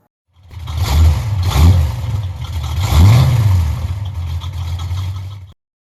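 A 1940 Ford's engine revs up twice in quick succession, then a third longer rev, close and loud, before cutting off abruptly to silence.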